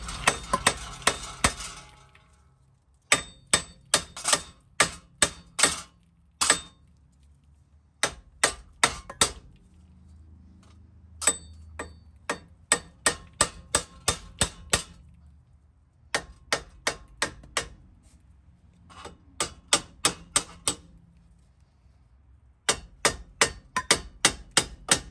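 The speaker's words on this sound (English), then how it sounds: "we're just gonna kind of hit the hub in different directions" Hammer blows strike the front passenger-side wheel hub of a Mazda CX-5 during a wheel bearing replacement, landing as loud, sharp metallic clanks in rapid bursts of several hits separated by short pauses.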